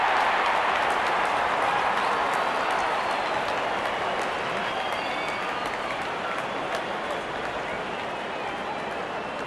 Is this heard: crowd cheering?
yes